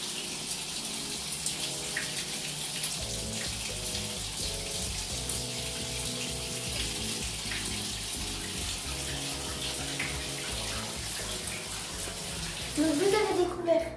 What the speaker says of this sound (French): Donc moi je mets à 38 degrés et ça ce sera le bouton pour démarrer l'eau